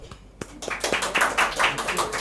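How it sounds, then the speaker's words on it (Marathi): A live audience at a Marathi stand-up show clapping, starting with a few scattered claps that quickly swell into brisk, close applause from a crowd, with a little talk mixed in. "या लोकांसाठी जरा टाळ्या वाजवा."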